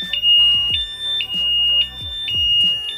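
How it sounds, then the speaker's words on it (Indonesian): A shrill Vinyx electronic motorcycle security alarm on a Honda Beat Fi beeps in repeated bursts about twice a second, loud and close, over a low engine-like rumble. "Dan alarm akan menyala"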